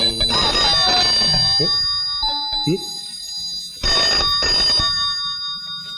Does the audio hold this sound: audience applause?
no